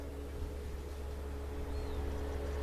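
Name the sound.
road traffic noise through open windows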